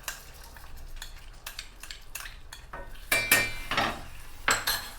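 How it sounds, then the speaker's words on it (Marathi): Khoa being stirred into freshly made caramel in a pan for basundi, with metal scraping and clinking of a spoon against the pan in irregular bursts, the loudest strokes near the end. "याच्यामध्ये आता खवा टाकून घ्यायचा आहे आपण जो बनवलेला खवा आहे तो टाकून घ्यायचा आहे"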